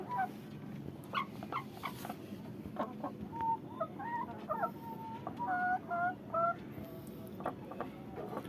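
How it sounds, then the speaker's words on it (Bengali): A hen and a fighter-breed rooster about 26 inches tall cluck and call in short bursts at close range, with repeated quick clucking notes over a steady background murmur of a farmyard. "এটা হচ্ছে মুরগি, আর এটা হচ্ছে তোর মোরগ।"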